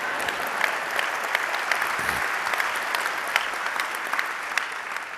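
An audience at a talk breaks into steady applause, a dense continuous patter of many hands with a few sharper claps popping out near the front, sustained for several seconds without speech.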